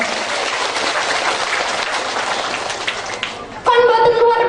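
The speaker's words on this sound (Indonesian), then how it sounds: "Tepuk tangan dulu dong." Dense, steady applause from an audience at a large Muslimat NU women's religious gathering and prayer-house thanksgiving, filling most of the moment before a voice or tonal sound abruptly takes over near the end.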